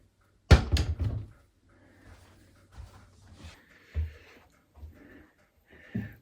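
A small closet door in a tiny cabin swings open with a sharp knock and clatter, then a few softer bumps and creaks follow at close range in a quiet room.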